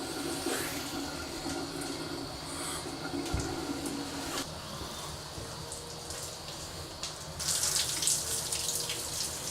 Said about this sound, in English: Make sure you spray underneath his feet, because that's where a lot of the soap likes to sit.